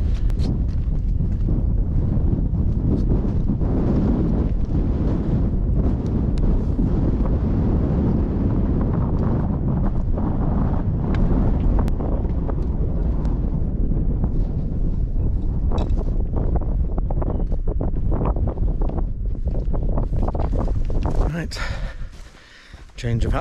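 Strong gusty wind buffets the microphone on the exposed summit of Pen-y-ghent in the Yorkshire Dales, a steady loud roar lasting most of the stretch before briefly easing near the end.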